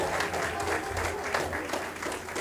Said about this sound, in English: let's give the teacher a rousing round of applause